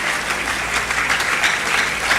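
A conference audience claps for a professor, a steady dense burst of applause from many hands, loud and close, with no speech over it.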